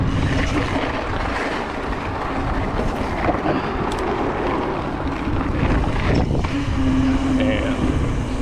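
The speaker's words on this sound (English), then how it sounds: "It's a bit windy, so hopefully the audio is not too bad." Wind buffets the microphone while mountain biking over a loose new gravel roadway on a 160mm travel bike in Manitoba, a loud, constant blustery rumble with scattered crunching and knocks.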